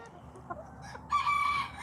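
Hens in a chicken coop give soft, scattered clucks, then one bird lets out a louder, rising cackle near the end, fairly close in a quiet setting.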